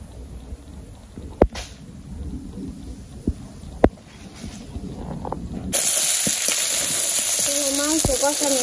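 Meat being fried and stirred in a pan, with a soft sizzle and scattered clinks early on, then a loud steady frying hiss from about the middle onward, close by with no talk.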